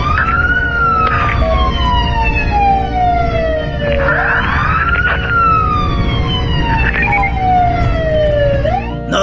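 A loud wailing ambulance siren in Minecraft sweeps up and down repeatedly in long, steady cycles, close and continuous, with a second yelping tone layered over it.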